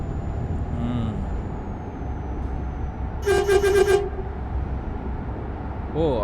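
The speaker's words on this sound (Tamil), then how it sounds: "ஓ! ஹாரன் அடிச்சிருக்கேன்ல." A loud truck horn in Euro Truck Simulator 2 blasts in a short pulsing burst over a steady engine rumble, followed moments later by a brief second toot.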